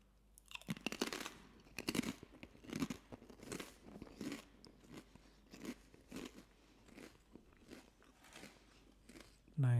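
Close, crisp crunching and chewing of a salty, peppery Binjwadi snack that resembles fried potato sticks, with repeated bites and chews in an irregular rhythm.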